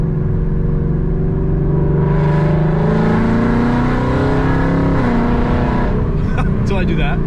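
A Ford Mustang with longtubes and a Borla ATAK exhaust drives in track mode with paddle shifting. A loud, close engine drone climbs in pitch through the gears, with a shift near the end and a voice speaking over it.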